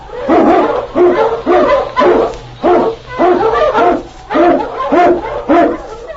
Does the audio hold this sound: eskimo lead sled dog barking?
yes